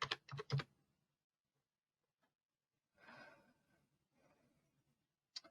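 Typing on a computer keyboard in quiet surroundings, a quick cluster of close clicks, a pause, then softer scattered keystrokes and one final tap.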